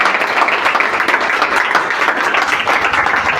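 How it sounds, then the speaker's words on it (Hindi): An audience at a 75th Republic Day celebration claps loudly and continuously, a thick wash of close applause with no pauses. "ताली बजाओ।"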